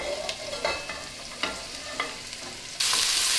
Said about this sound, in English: Turn the celery, carrots, garlic, and onion all together.